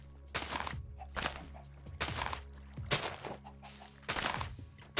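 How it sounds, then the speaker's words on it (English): Chickens cluck in the video game Project Nope Zone, a run of five short rounded bursts at a steady pace over a low constant hum. "Chickens."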